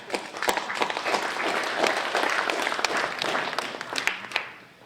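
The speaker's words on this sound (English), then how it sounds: "you should give yourselves a round of applause for that" An audience applauds at a journalism excellence award gathering for a college of communications, dense sustained clapping that fills the room, then thins out toward the end.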